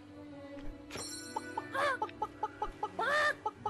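Chickens in the video game Fable Anniversary cluck in short, evenly spaced bursts, with two louder squawking calls rising above them over a low ambient game backdrop.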